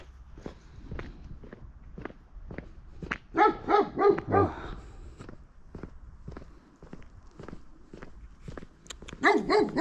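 An unfriendly guard dog at a hut in a mountain forest barks in a short, loud burst of repeated yaps, with footsteps crunching along the trail throughout and another flurry of barking near the end.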